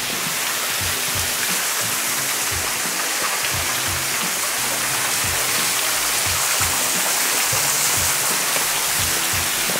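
Urami-ga-taki waterfall on the island of Hachijojima, Japan: a steady, dense rush of falling water roars continuously at an even level throughout, with no voices.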